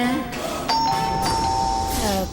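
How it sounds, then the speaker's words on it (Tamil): A doorbell chimes with a clear two-tone ding-dong, ringing out and sustaining, repeated once more near the end, over a faint background hum. "காலிங் பெல் அடிக்குது, யார் வந்திருப்பாங்க?"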